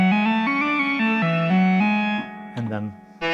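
Pittsburgh Modular Lifeforms SV-2 synthesizer lead notes played in a short stepped melody with spring reverb, loud and up close, each note ringing out with a metallic splashy tail before a brief voice cuts in at the end.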